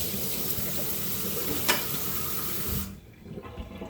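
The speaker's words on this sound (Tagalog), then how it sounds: "maglalagay na tayong tubig. Yan. Lagyan natin ang tubig." Water pours steadily into a new water dispenser, a continuous splashing rush that stops abruptly near the end, leaving quiet room tone.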